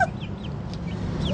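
Baby chicks on a small chicken farm give soft, high chirps, a few scattered peeps over a low background hum, close but faint.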